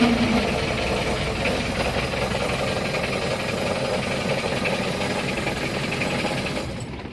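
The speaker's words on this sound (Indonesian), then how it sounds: "Biasa ini pemanasan dulu kayak gini. Ini sekitar 15 sampai 30 detik ya." A diesel car engine idles while warming up before starting off, a steady close rumble with a faint knocking texture, running unbroken and easing slightly at the end.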